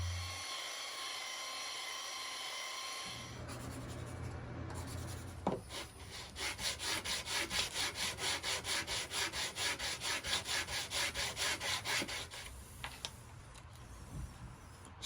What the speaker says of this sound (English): So I'm gonna try to do this with my belt sander.